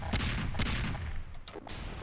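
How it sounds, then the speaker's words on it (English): Fireworks bursting in Garry's Mod, a few loud booming pops in quick succession followed by crackling, close and prominent with no talking over them. "Guys, watch the fireworks."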